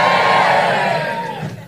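A comedy club audience cheering loudly together, a dense roar of voices and whoops that swells at first and then fades away within about two seconds.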